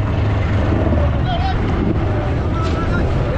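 Strong wind roaring over a fishing boat at sea in the Arabian Sea, heavy buffeting rumble and water noise throughout, with faint voices beneath.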